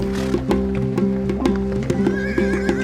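Bashkir horse in the southern Ural foothills whinnying loudly up close over a steady tonal music bed, with sharp hoof clip-clops punctuating it at a regular pace.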